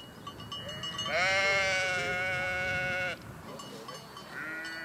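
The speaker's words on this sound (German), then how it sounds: "Das Schaf hier ist der Chef der Herde und ruft sie." Near Seebensee in the Alps, a sheep leading its flock lets out one long, loud bleat lasting about two seconds, followed by fainter, shorter bleats from other sheep nearby.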